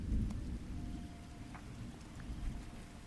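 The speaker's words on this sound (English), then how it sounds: "Let's get some thunder going. More rain." Steady rain falls through a dark, rumbling stormy ambience with low thunder rolling underneath, a soft continuous wash without any voices.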